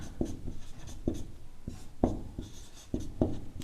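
Chalk or marker strokes on a classroom board during a maths lesson on cone radius: a series of distinct scratchy writing strokes in an uneven rhythm, close and clear, with no speech.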